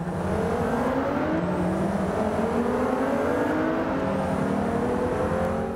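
Race car engines in the Forza Motorsport 5 video game roar continuously at high revs, pitch sweeping upward through gear changes as the cars accelerate along the track, loud and steady with no talk.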